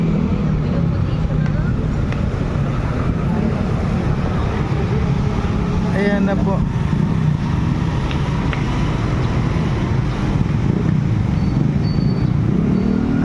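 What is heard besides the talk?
motor running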